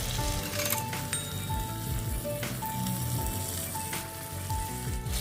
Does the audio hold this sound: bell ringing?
no